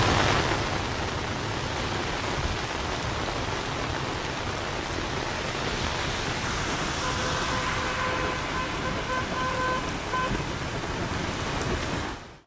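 Heavy, nonstop rain in Hyderabad makes a steady, broad wash of hiss throughout, with the low rumble of road traffic blended underneath and no voices.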